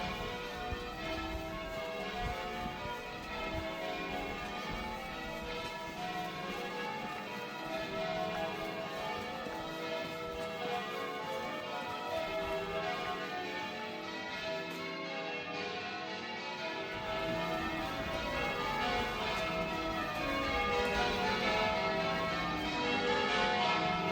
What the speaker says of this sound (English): Let's have a look at the bells, shall we? Where are they coming from?